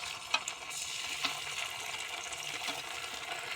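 Onions frying with chili powder and chili paste for a Bengali fish curry with potato and pointed gourd, a steady close sizzle with a couple of sharp stirring clinks, no talking.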